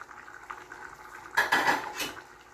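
A metal lid clanks onto a cooking pot of sautéed smoked galunggong fish with sweet potato and moringa, just after chili goes in. A quiet simmer comes first, then a sharp cluster of clattering metal contacts.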